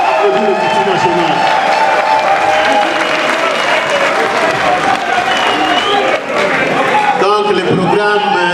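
Audience applause at an UDPS party session in the Democratic Republic of Congo after the national executive's action programme is adopted, steady dense clapping mixed with crowd noise and voices throughout.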